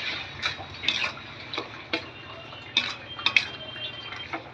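Chicken masala, spices and sugar frying in a pan while being stirred, with intermittent spoon scrapes and clinks against the pan over a soft, low sizzle. No one speaks.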